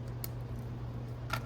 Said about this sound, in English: you want to start cutting these zip ties right here